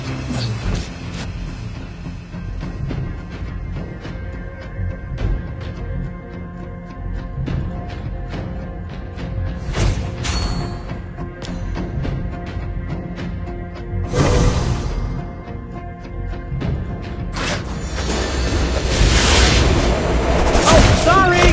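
Explosions and booming blasts from a turret under attack in the mobile game Mobile Legends, with hero Bruno, rumbling continuously and loudly over game music and announcer voice lines.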